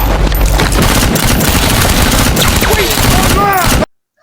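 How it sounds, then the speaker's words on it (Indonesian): Dense, loud gunfire from a police and FBI shootout in the crime film The Channel, rapid overlapping shots and bursts filling the scene before cutting off abruptly near the end. "beberapa anggota FBI dan polisi memergoki aksi mereka, sehingga baku tembak pun terjadi"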